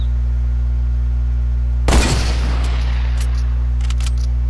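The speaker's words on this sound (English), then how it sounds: "I'm shooting these ghosts." Video-game gunfire aimed at ghosts: one sharp, loud burst of shots cracks out partway through, then trails off into a few faint clicks over a steady low hum.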